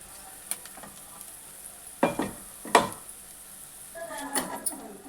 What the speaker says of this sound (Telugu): గ్రైండర్ గిన్నెలో వేసుకొని పచ్చి వాసన పోయే వరకు వేయించుకోవాలి